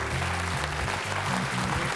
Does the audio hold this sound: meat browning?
no